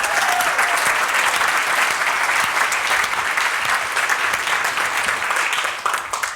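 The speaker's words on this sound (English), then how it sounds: "let's give Daniel a round of applause." A conference audience breaks into loud, sustained applause, dense clapping that holds steady for several seconds before beginning to taper at the end.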